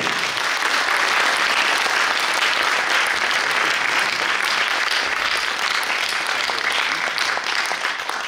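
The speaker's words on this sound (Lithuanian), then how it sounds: "Plojimai!" Audience at a youth sung-poetry festival and competition breaking into sustained applause, a loud, even roar of many hands clapping that holds steady throughout.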